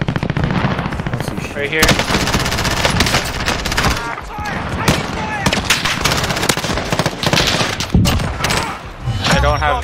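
Rapid bursts of automatic gunfire in the video game Warzone, loud and close, come in overlapping volleys with brief gaps and sharp single shots, while a voice speaks briefly over the shooting.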